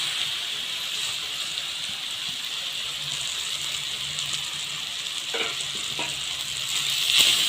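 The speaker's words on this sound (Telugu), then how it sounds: "రైస్ వేసుకొని కలుపుకుందాం." Rice is stirred into a frying tomato mixture in a pan, giving a steady soft sizzle with scraping, rattling stirring strokes toward the end, fairly quiet and without talk.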